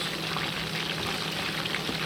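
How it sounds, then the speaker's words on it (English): Oil crackles and sizzles steadily as fish fries in a pan over low heat, a dense, even hiss close by with no talking. "So I'm gonna be frying it"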